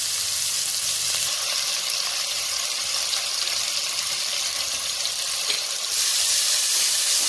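Onions sizzle steadily in a pan with salt for a country chicken curry, a broad bright frying hiss holding fairly loud and even throughout with no talking.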